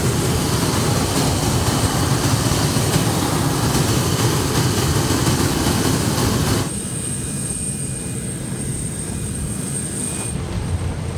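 A parked airplane at the North Pole drones steadily with loud engine noise while being unloaded of parcels, then the roar drops abruptly to a quieter hum with a thin high whine.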